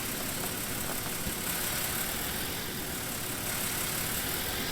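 A Ford tractor idles in Farming Simulator 19, a steady, even engine drone that holds constant with no distinct start-up, no voices.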